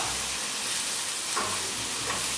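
Steady close sizzle of arugula wilting in a hot pan with stock and garlic, a continuous broadband frying hiss with faint stirring, no voices.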